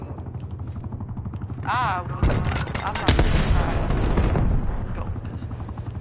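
Pistol fire in a PS4 shooter game, a burst pistol among the weapons, with several sharp shots and some rapid bursts over busy game noise, a brief spoken exclamation mixed in.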